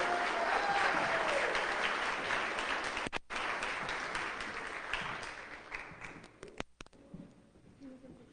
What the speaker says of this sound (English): How about a big round of applause for Commissioner AJ Garcia?